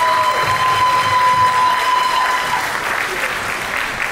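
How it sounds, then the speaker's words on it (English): A dinner crowd at a Juniata College Diwali dinner applauds a speaker, with steady, full applause throughout, loud and close, with a few faint cheers and voices mixed in. "Another round of applause for Dr. Abdallah."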